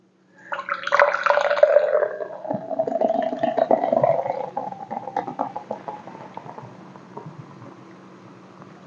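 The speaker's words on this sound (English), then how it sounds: "But I pour it into the cup so you can see the color." C4 Popsicle cherry energy drink poured from a can into a cup, a close fizzy liquid splash that starts loud and tapers into softer crackling carbonation over several seconds.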